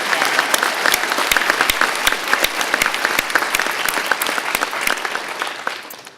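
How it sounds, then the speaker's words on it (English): Sustained applause from a sizable crowd at a fire academy graduation, loud and steady with dense clapping throughout, tapering slightly at the very end. "Let's give them another round of applause."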